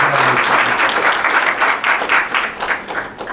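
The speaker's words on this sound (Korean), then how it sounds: "한 번만 더 일어나시면은 더 뜨겁게 박수를 환영하겠습니다." A church congregation breaks into sustained applause, dense clapping from many people that swells and then gradually thins out.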